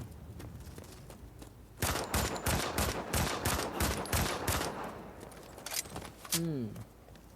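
Rapid bursts of gunfire in the Modern Combat 5: Blackout mobile shooter, a loud string of close shots fired in quick rhythm for several seconds, then a few more shots near the end, with a voice talking underneath.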